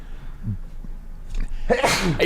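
A single sharp sneeze bursts out near the end, following a quiet stretch with faint low murmuring.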